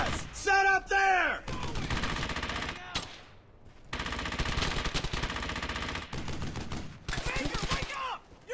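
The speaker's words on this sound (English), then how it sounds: "Baker, wake up! You're under fire!" Gunfire in the World War II shooter Brothers in Arms: Hell's Highway, with rapid machine-gun bursts and repeated rifle shots crackling in short volleys, plus a shouted voice at the start over the loud firefight.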